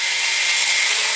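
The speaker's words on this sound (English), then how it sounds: "I like to come through with a medium Kratex buffer" High, steady whirring hiss of a medium Kratex rubber abrasive buffer polishing a FosTech Echo bolt carrier, close and continuous for a brief moment, no talking.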